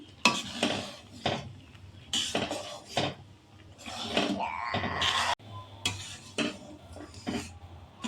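Mango pickle cooks with ground spices in a pan, with repeated scraping and clattering strokes of a spoon or spatula against the pan over a faint sizzle, in irregular bursts with short pauses and no voices.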